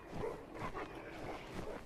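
A dog in the video game Assassin's Creed 3 barks and yips a few times in quick succession at moderate volume, sounding slightly processed, with no other sounds around it.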